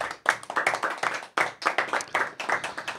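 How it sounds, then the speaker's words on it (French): Applause from a small local audience at a community event in La Rochette, a steady run of individual hand claps at close range with no talk over it. "Vous applaudit aussi, bien sûr."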